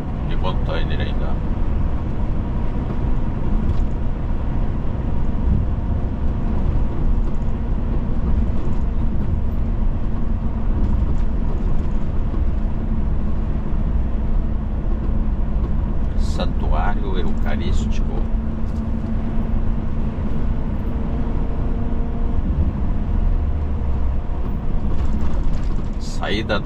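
Freight train with container wagons rolling past beside a highway, a steady loud rumble and clatter heard from inside a moving truck cab, with a few brief voices over it.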